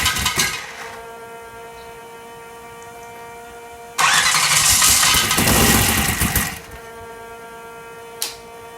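A small engine with fuel pushing back up through the carburetor cranks on its electric starter. The whirring churn lasts about two and a half seconds, loud and close, then cuts out as it fails to keep running, followed by a faint click.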